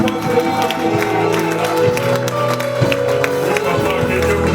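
A church congregation at Sunday worship applauds and cheers, a dense, sustained wash of clapping and crowd noise with a voice carrying over it.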